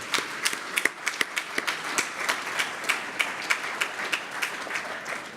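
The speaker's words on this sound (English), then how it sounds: "we should give them a round of applause for setting the table for everything we've done" Audience at a sports awards event applauding former players and legends, a steady close round of clapping with distinct sharp individual claps standing out over the wash.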